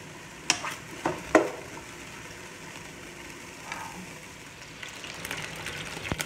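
Meat being lifted out of a frying pan: a low, quiet sizzle underneath sharp metallic scrapes and clinks early on, then softer scattered clatter and spatter toward the end, no speech.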